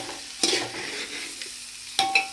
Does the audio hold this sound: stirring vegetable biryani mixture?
yes